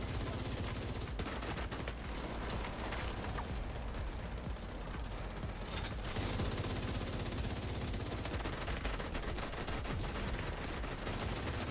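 Steady, continuous rattle of rapid gunfire in the shooter game The Division 2, a dense barrage running throughout at an even loudness with no pauses or talk.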